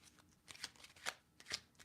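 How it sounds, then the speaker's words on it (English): Tarot cards are shuffled in quick riffling bursts, several soft crisp flutters in a row, close and fairly quiet with no talk. "I want to shuffle 3 times"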